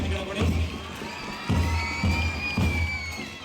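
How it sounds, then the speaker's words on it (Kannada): Students at a school Independence Day celebration in Hanagal, Haveri district, give a loud round of clapping and cheering for a school, a dense crowd roar with shouts and whoops swelling in repeated bursts. "ರೋಶಿನಿ ಶಾಲೆಗೆ ಒಂದು ಜೋರಾದ ಚಪ್ಪಾಳೆಯನ್ನ ದಯವಿಟ್ಟು ಎಲ್ಲ ವಿದ್ಯಾರ್ಥಿಗಳು ಕೊಡಿ"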